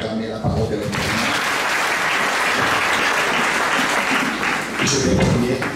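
A church congregation applauding, a dense, steady wash of clapping hands from many people lasting several seconds, with voices mixed in beneath.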